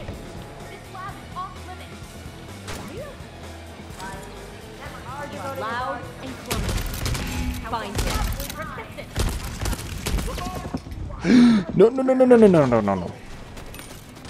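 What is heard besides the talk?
turret gunfire in Deathloop video game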